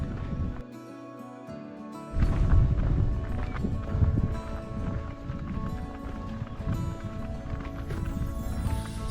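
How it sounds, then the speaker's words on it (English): A horse outdoors on a road trip comes toward the listener, its hooves thudding in a quick, uneven run on the ground amid wind noise across the whole stretch, fairly close. "So it looks like this horse is coming to greet us"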